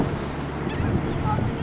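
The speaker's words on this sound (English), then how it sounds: "This is true because there's a constant breeze here at the ocean." A constant ocean breeze at the beach rushes against the microphone over the low wash of surf, a brief steady blend of wind and waves.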